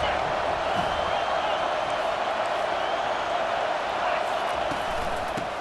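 Football stadium crowd at an Arkansas vs Florida State game roaring steadily for the defense on third down, a loud, continuous wash of cheering without breaks.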